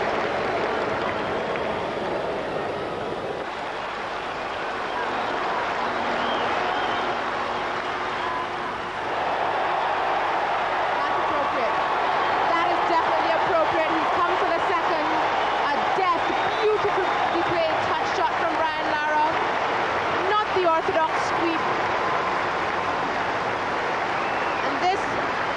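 A capacity crowd of about 24,000 at a one-day cricket match in Durban, West Indies against Pakistan, applauding steadily for a long stretch, broad sustained clapping and cheering heard under a commentator's voice.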